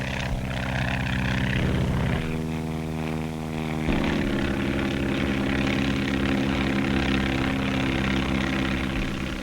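A 1935 propeller-driven skywriting airplane drones steadily overhead, its engine tone shifting pitch partway through as it turns, loud and continuous with no voices.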